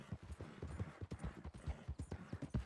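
Steady clip-clop of a walking horse's hooves in the Red Dead Redemption 2 video game, near and distinct, each step sharp against a low ambient bed.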